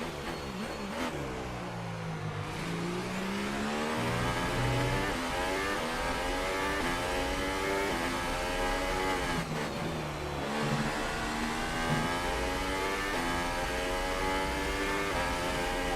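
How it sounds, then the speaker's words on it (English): A Honda Formula 1 engine in the racing game F1 2018 at the Chinese circuit, screaming at high revs and climbing through repeated upshifts, each gear rising in pitch before the next change, loud and continuous with no talk. "Honda engine to the max."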